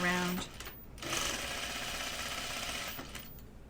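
A sewing machine hums along the side seam of a knit cardigan, starting in the seam allowance, with a brief pause and restart, fairly quiet and close, with a voice speaking over the start.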